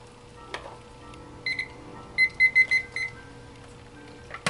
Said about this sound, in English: Have my timer set for 5 minutes.